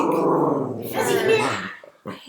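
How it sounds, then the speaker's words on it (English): Maxie, a dog, growls and barks in rough throaty bursts close to the microphone, a gargling rumble that rises into a louder bark before short yaps at the end. "my dog's barking"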